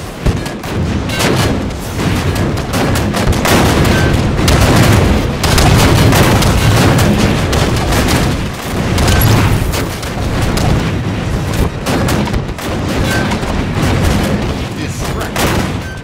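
Rapid gunfire and heavy booms in Halo 5 multiplayer, dense continuous shooting and explosions throughout, with players talking over the action.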